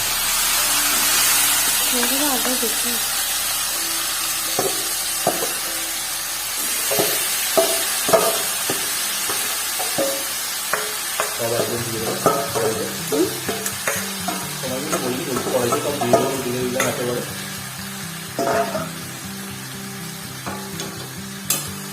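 Food fries in hot oil in a kadai and sizzles with a steady hiss while a spoon scrapes and stirs in irregular knocks, and a person talks over the cooking.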